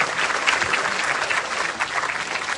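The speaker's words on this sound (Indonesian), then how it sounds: "Tepuk tangan untuk pemuda Indonesia." Loud, dense applause from a large audience at an Indonesian youth event, sustained and steady throughout with no voices over it.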